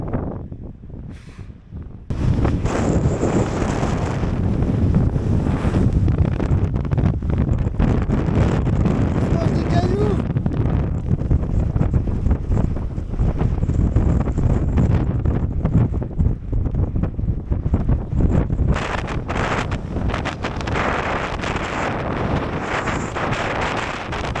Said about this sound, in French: C'est des rafales à 70-80 de face là.